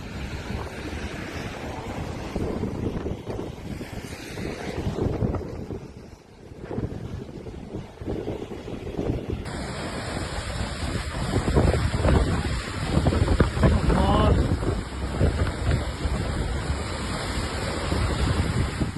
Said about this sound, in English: massive waves crash over barriers, sweeping water and debris onto promenades and beachfront roads.